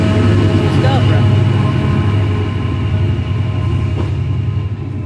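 A train passes through York station with a steady, loud rumble of wheels and engine and a faint squeal of rails. Voices can be heard faintly under the constant noise.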